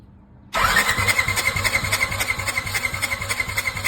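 A Polaris RZR engine cranks over for a compression check, a sudden loud start followed by a steady rhythmic chugging of the starter and pistons that continues evenly to the end.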